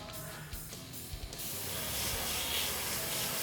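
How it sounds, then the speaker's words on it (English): An airbrush sprays paint over a converted Chaos Space Marine biker miniature, a steady close hiss that starts after a few soft clicks and then runs continuously and evenly to the end. "Spray it all over."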